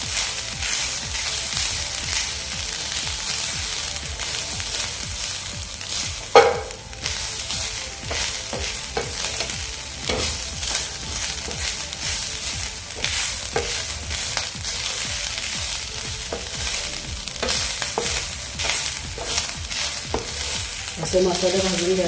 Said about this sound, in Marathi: फक्त लालसर होईपर्यंत गुलाबी रंग येईपर्यंत आपल्याला परतून घ्यायचा आहे